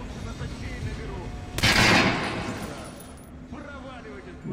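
A single sharp burst of gunfire in the video game Metro Last Light Redux cuts in abruptly, loud and bright, then decays into a quieter ambient background.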